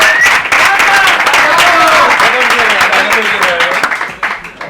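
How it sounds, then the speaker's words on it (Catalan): A studio audience at a Christmas special breaks into applause, quick sharp claps rising over a voice talking loudly on top, the clapping thinning out near the end. "Un aplaudiment, sisplau."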